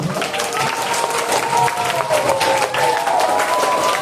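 Schoolchildren at an elementary school anti-bullying and anti-drug assembly clap together in a dense, lively burst of applause that fills the room throughout.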